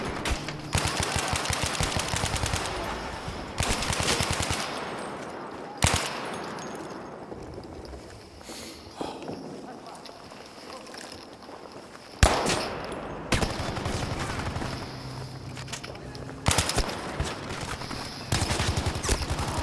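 Sustained bursts of automatic fire from a MAB 38 submachine gun on the Operation Underground map, loud and close, with rapid volleys broken by short pauses and a few single sharper shots.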